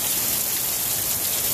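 Heavy rain pours down steadily, a dense, continuous hiss of drops striking surfaces with no break across the short stretch and no voices over it.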